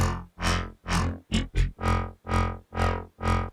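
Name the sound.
phasey laser-like chorus synth sound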